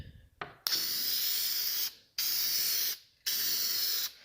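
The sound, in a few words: spraying adhesive onto speaker panel back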